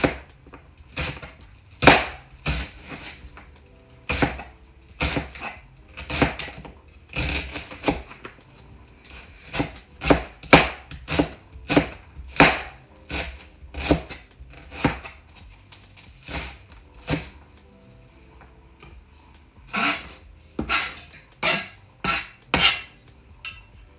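Pressure-cooked cow foot and cow skin chopped with a knife on a board for Jamaican brown stew, a long run of sharp, close, irregular chops, sometimes quick and clustered, with no talking.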